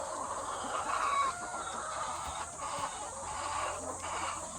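Hens in a cage-free poultry house, clucking and murmuring in overlapping calls over a steady background hum, fairly quiet and with no talking.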